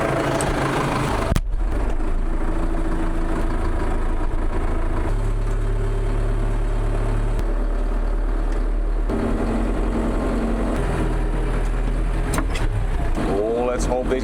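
A tractor engine runs continuously at a low, steady drone while working through off-grid forest land cleared for a cabin, loud and constant beneath a voice.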